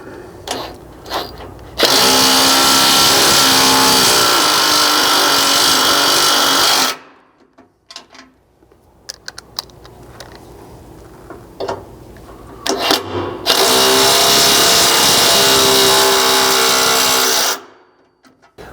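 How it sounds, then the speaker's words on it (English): A cordless impact driver runs a bolt into a Chevy Colorado truck cross member, cutting new threads during a skid plate install, in two loud, sustained, rattling bursts of about five and four seconds separated by quieter handling clatter. "run it in with the impact, cutting new threads into this cross member"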